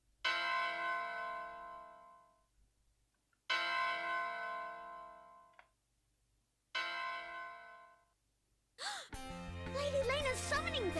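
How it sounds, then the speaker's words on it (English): Summoning bell from the video game Soul Nomad: three sustained, bright bell strikes, each ringing out and fading for about three seconds, followed by a short burst of game sound effects and a voice. "Lady Layna's summoning bell."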